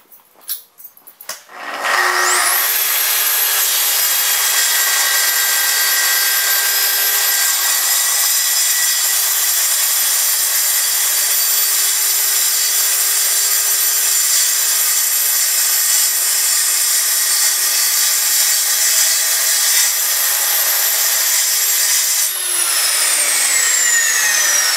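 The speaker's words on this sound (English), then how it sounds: "So basically I'm going to cut a 1/4 inch off of that right now, and you can watch me do that" A power saw trims a quarter inch off a solid surface countertop during seam preparation, a loud continuous high whine that starts after a brief spin-up, holds steady for about twenty seconds, then winds down.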